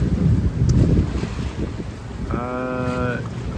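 Sailboat motoring under engine on open sea near Vava'u, Tonga: steady low engine drone under heavy wind buffeting and wash of water, with a brief tonal whine near the end, close and loud.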